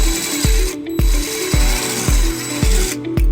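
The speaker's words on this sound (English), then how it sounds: "And then we'll drill the second hole." A power drill bores a hole during a 2006 Toyota Highlander wiring harness installation, running in short repeated bursts, about six pulses in a steady rhythm, loud and close with a whining motor tone.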